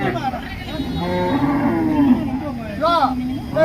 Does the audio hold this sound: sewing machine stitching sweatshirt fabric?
no